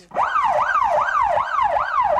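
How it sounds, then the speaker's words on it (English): Police siren on a TV show, a loud, close wailing tone rising and falling in a fast regular cycle about every 0.4 seconds, sounding alone without speech. "My siren is registering 120 decibels."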